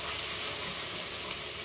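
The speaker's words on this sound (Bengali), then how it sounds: "খুব ভালো করে এটাকে আঁচ কমিয়ে নাড়তে থাকবে মশলাটা ভাজা ভাজা হওয়া পর্যন্ত" Cumin powder, salt and sugar frying in a pan over low heat while being stirred, giving a steady, close, continuous sizzle and hiss.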